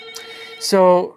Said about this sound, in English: I do apologize about the phone call again.